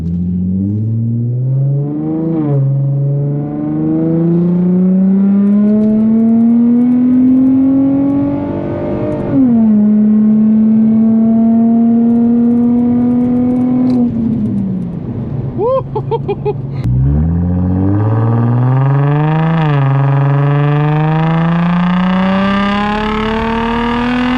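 An Infiniti G35 with a resonator and muffler delete accelerating through several gears, the loud raspy exhaust rising in pitch with each pull, dropping at the shifts, crackling at one lift-off, heard from inside the car with a brief voice.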